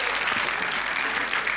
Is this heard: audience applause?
yes